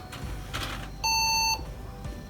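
A single steady computer POST beep sounds at startup on a PC whose CMOS battery has been removed, lasting about half a second over a low background hum, loud and close.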